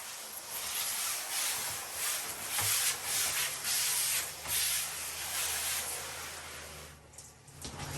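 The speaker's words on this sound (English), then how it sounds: "Already scrubbed it on one side, we'll scrub it on the other." A window screen is scrubbed clean with water, giving a close, continuous rough hissing and rubbing with gentle surges as the brush strokes back and forth, fading briefly near the end.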